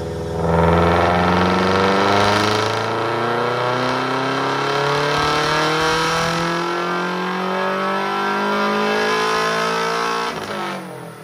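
A car engine revs hard and close on a dyno run to about 7,000 rpm, its pitch climbing steadily through a long pull before easing off at the end.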